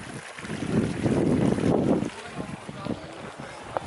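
Water bursts from the ground after an earthquake in Croatia, a loud rushing, gushing wash that swells for a couple of seconds and then eases, with wind buffeting the microphone and people talking nearby.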